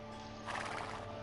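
Horses neighing amid battle in the real-time strategy game Age of Empires II Definitive Edition, a short loud whinny over steady hoof clatter and game ambience.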